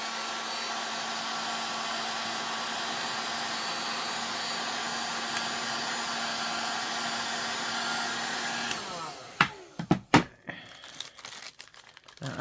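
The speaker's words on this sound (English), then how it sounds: "Now I'm using an actual heat gun and not like an embossing gun." A heat gun on its low setting blows a steady, loud whooshing stream of air over a wax candle for several seconds, then cuts off, followed by a few crinkling and handling clicks.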